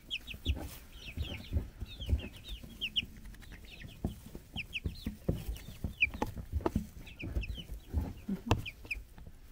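A group of nine two-week-old baby chickens cluck and peep close by, with a steady stream of high chirps over soft scratching and pecking sounds, and no talking.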